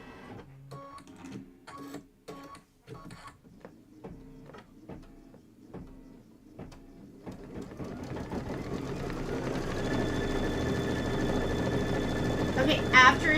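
A Kimberbell embroidery machine quilting an appliqué block starts with scattered clicks and taps, then builds into a steady, fast mechanical stitching hum with a faint high whine, close by.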